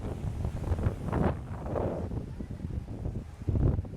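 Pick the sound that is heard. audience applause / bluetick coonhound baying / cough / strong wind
strong wind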